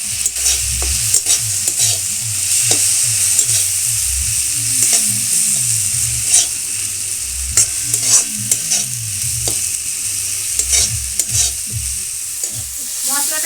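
Spices, including ginger, turmeric, chili powder and cumin powder, sizzle in hot oil in a pan for a spinach dal, with steady stirring and scraping strokes ringing out over the frying hiss.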